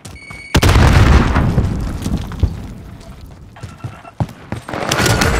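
A frag grenade goes off in Call of Duty: Modern Warfare: a sudden loud blast cuts in, rolls into a rumbling decay, and is followed by further sharp pops and bursts of battle noise.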